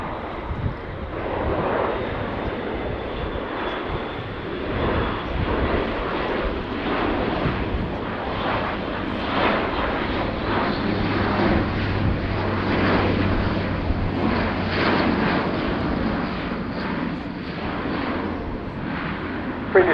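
Airbus A400M turboprop transport flying slowly at an air show while refuelling helicopters, a steady loud drone of engines and rotors that stays constant throughout with no pauses.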